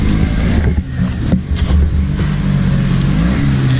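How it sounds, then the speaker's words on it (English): A paddle snowblower engine runs steadily during a big snowstorm cleanup, its loud, continuous motor drone holding close and even throughout with slight swells in pitch. "I love the paddle snowblower that it cleans right down to the pavement."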